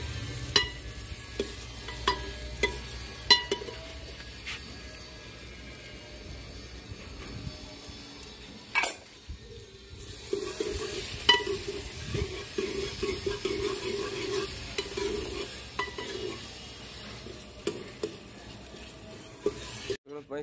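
Chopped tomatoes and chillies fry in a pan for curry in a rural Punjab kitchen, with a steady sizzle broken by repeated scraping stir strokes and clinks of the spoon throughout.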